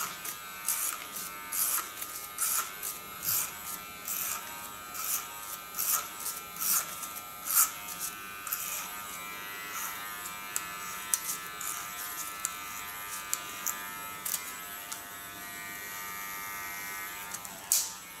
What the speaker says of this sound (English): Take my large Gala clipper.